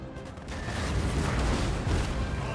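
Cannons fire in a Total War: Napoleon battle of the Iberian Peninsula war, with rumbling booms and crashing blasts piling up into a dense, continuous barrage of in-game artillery.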